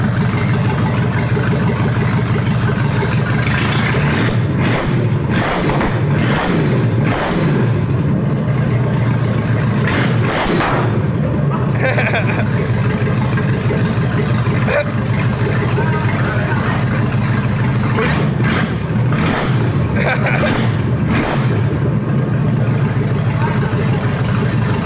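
A Chevy 283 V8 in a 1960 Impala rumbles loudly and close at idle, broken by several sharp revving bursts, with people talking faintly in the background.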